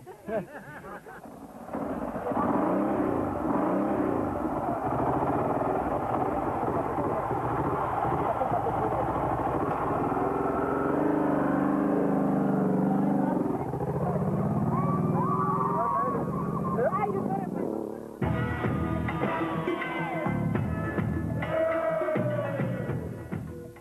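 A motorcycle roars along a sandy Dakar rally track, a continuous loud, rough engine drone that swells and shifts as it rides, with brief dips and crackling texture, close and dominant throughout.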